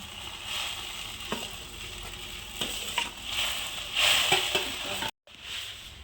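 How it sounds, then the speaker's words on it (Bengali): Chana dal paste fries steadily in a pan, a continuous close sizzle broken by periodic scrapes and knocks of a ladle stirring it, then a brief gap before the frying resumes. "এই যে হাতা দিয়ে ভালো করে আমি নাড়িয়ে নিচ্ছি"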